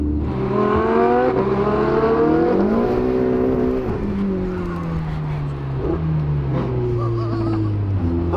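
A Lamborghini Huracan V10 launches from a standing start, its engine note rising in pitch through the gears with a loud, continuous roar close by, and some talk over it.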